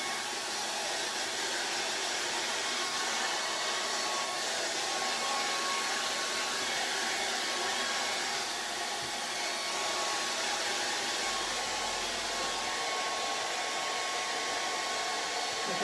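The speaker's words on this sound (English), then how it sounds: "yeah, get the hairdryer" A hairdryer blowing on wet acrylic paint for a drippy portrait, a steady loud whooshing roar held close and unbroken for the whole stretch, with no talk.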